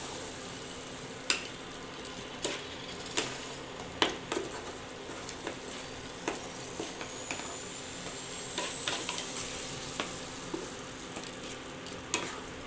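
Egg curry with potato, pointed gourd and soya chunks sizzles steadily in a pan while being stirred slowly, with sharp scraping clicks of the spoon every second or so over the continuous frying hiss.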